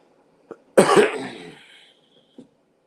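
A single harsh, prolonged cough burst close to the mic, preceded and followed by small breathy sounds, otherwise quiet.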